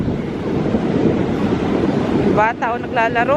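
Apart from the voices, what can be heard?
sea waves and wind at Whitby coast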